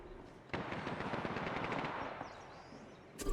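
Sustained burst of rapid automatic gunfire in a video game, loud and continuous for several seconds and then cutting off, followed by a brief new burst at the end.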